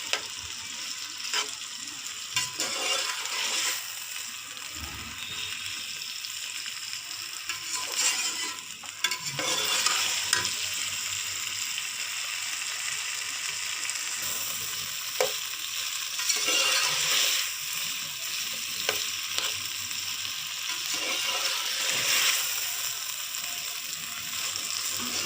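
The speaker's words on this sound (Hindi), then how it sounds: "इसको तकरीबन 2 या 3 मिनट फ्राई करना है आपने, ताकि इसकी जो लेस है वो ख़त्म हो जाए।" Taro root (arbi) frying in a pan while being stirred, giving a continuous oily sizzle punctuated by scraping and clinking of the spoon against the pan, with no talking.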